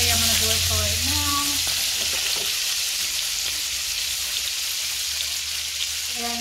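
Shrimp fry in butter in a pan, giving a steady, close sizzle throughout with a few brief stirring sounds near the start.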